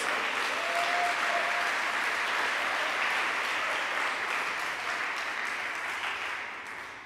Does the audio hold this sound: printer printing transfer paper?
no